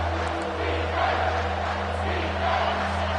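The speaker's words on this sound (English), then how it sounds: "This crowd rising up" A stadium crowd at a college football game between Alabama and Florida keeps up a steady, loud, far-off roar the whole time, with a constant low hum underneath and no clear speech.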